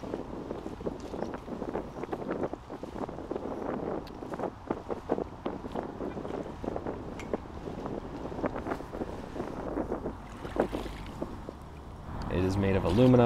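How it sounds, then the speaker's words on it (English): Wind gusting across the Delaware River on a blustery day, a steady rumbling buffet against the microphone with low roar throughout, building louder near the end. "It's a little bit of a windy day here on the Delaware River."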